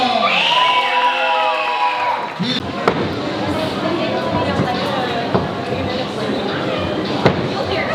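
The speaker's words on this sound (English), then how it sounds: "Round of applause" An audience at a weightlifting competition applauds and cheers for the winners. A voice over a loudspeaker comes first, then a dense wash of clapping and crowd noise with occasional sharp knocks, steady and fairly close.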